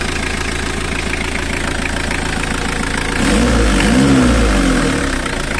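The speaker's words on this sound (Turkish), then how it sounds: "motorun sesi biraz azaldı yani" An oil-burning car engine treated with a restorer oil additive idling steadily at close range, then revving up briefly before settling back to a rough idle.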